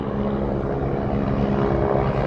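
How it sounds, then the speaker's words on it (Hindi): Air Force helicopters fly overhead with a loud, steady rotor and engine drone that stays constant throughout, no voices. "ये एयरफोर्स का हेलीकॉप्टर है और इधर भी 2 हेलीकॉप्टर है"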